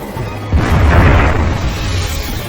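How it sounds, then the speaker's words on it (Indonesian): A dynamite blast in the film Piranha 3D hits suddenly as a loud, deep boom, its low rumble swelling and then slowly fading into a long roaring tail, with no voices over it. "saat dinamit itu meledak"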